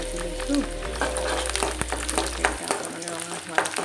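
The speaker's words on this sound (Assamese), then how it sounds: "এতিয়া অকণমান ৰঙা হোৱালৈকে ভাজি লৈছোঁ" Chopped onions crackle and hiss in a pan of hot oil with dried red chilies while cooking ghugni, a continuous close sizzle punctuated by small pops and light stirring clinks.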